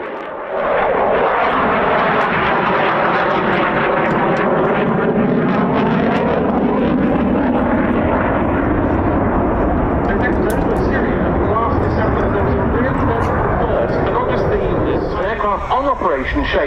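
A jet makes a high-speed pass at RAF Cosford Air Show, a loud swelling roar with sweeping Doppler tones building and holding for many seconds before easing slightly at the end.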